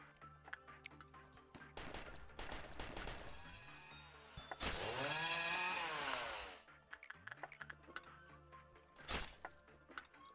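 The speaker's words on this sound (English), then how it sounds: "Said tough cookie just lost half his health from one chainsaw." A chainsaw attack in the video game Lobotomy Corporation, loud revving engine bursts that rise into a long sustained roaring cut, then a final short burst, up close among clanking game effects.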